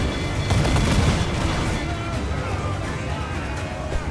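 Ship cannons fire in a naval battle in Assassin's Creed IV: Black Flag, heavy booms and crackling blasts blending into a dense, continuous roar with shouted voices over it.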